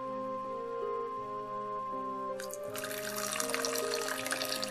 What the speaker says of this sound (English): So now let's get ready and pour some in.